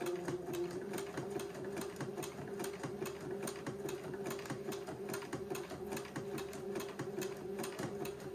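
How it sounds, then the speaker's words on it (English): A sewing machine stitching fabric along an armhole edge hums steadily with a fast, even needle rhythm throughout, close and moderately loud with no voices. "this will take me a minute to sew"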